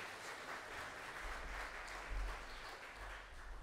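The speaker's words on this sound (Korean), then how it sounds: "큰 박수로 하나님께 영광." Applause fills a church during a Thanksgiving Sunday worship service, a steady wash of clapping heard from a distance, fairly faint and even throughout with no voices over it.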